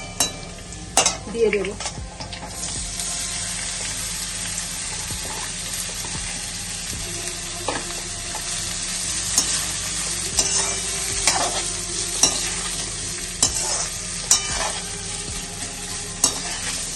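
Boiled carrots and beans are stir-fried with fried garlic in hot oil, giving a continuous sizzle broken by scraping stirs and a few sharp clatters, while a voice speaks briefly at the start.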